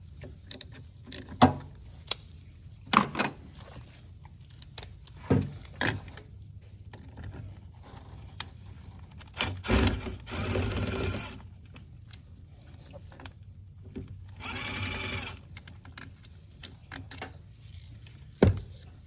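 Small Torx T20 screws being backed out of the ABS module on a 2002 Chevy S10 pickup: scattered faint clicks and taps of a hand tool with brief ratcheting bursts around midway and later, close up with no talking.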